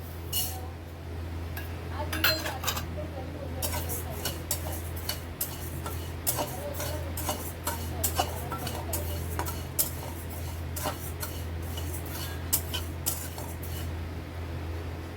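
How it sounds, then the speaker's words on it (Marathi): Urad dal is dry-roasted in a pan while a spoon stirs it, giving repeated light clinks and rattling taps of metal and grains over a low steady hum, with some talk faintly present. "आता उडीद डाळ भाजून घेऊया"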